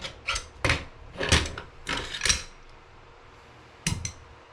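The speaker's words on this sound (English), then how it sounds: "your bolt will come out. It'll slide all the way out." Metallic clicks and sliding scrapes come from an AK-47 bolt being worked out of the rifle during field stripping, a cluster of close mechanical clacks followed by a quiet gap and two final clicks.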